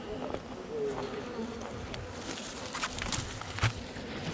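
Honeybees buzz around their hives during an apiary check after seasonal migration, a dense droning swarm close by with soft footsteps and handling noises mixed in.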